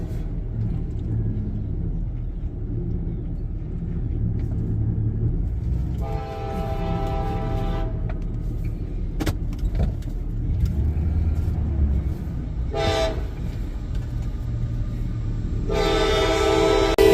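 CSX freight trains rumble past at a railroad crossing in Resaca, Georgia, with a steady low rolling roar of wheels and cars, while a loud train horn sounds several times in long blasts from fairly close by.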